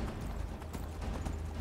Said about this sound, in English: I have a horse.